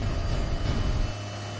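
A HAL Dhruv Advanced Light Helicopter flies past as a broad, steady roar. It drops to a thinner hum after about a second, with no talk.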